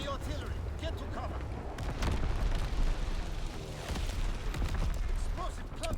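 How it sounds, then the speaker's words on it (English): Enemy artillery shells explode in the Call of Duty: WW2 video game, with continuous booming blasts and rumbling debris over six seconds, loud and dense, while voices talk over the barrage. "Incoming enemy artillery."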